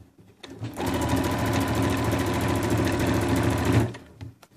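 A sewing machine stitches a patchwork seam for a cushion cover, starting with a brief hum and then running in a fast, even mechanical whir for about three seconds before stopping abruptly.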